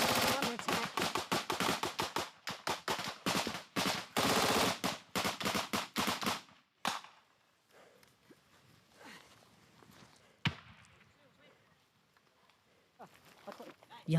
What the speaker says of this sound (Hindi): अभी अभी हम गोलीबारी के बीच फंस गए थे जो रूस की तरफ से हो रही थी